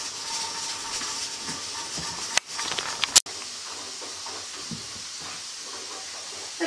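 A pressure canner full of chicken stock hisses with a steady, fairly loud rush of escaping steam, broken by a couple of sharp clicks or clanks partway through, with no voices.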